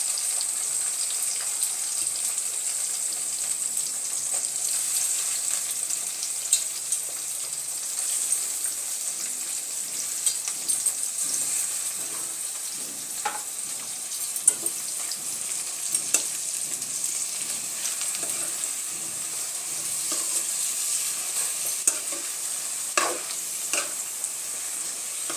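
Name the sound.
brinjal frying in oil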